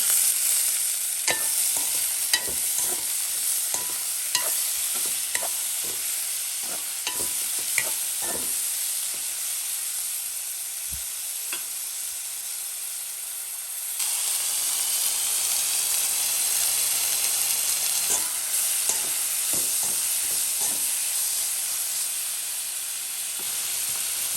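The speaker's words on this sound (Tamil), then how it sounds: "எல்லாம் வதங்கிடுது தக்காளி பழம்" Tomatoes sauté in a pan for crab curry, giving a steady close sizzle and hiss, with frequent sharp clinks and scrapes of a spoon stirring against the pan; the sizzle dips and returns midway, with no voices.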